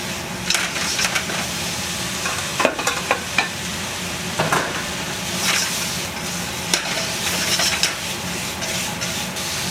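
Pork fries in a pan for Japanese-style kimchi fried rice, a loud, close, continuous sizzle broken by irregular clacks and scrapes of a spatula stirring the meat.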